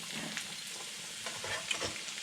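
Garlic sautés in a pan for a Pampanga-style kilayin, a continuous close sizzle with brisk stirring scrapes and a few light utensil clicks, no talking.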